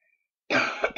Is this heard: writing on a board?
no